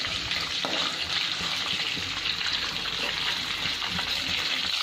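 Whole garam masala spices frying in hot oil, a steady, even sizzle that runs without break at moderate loudness, no voices.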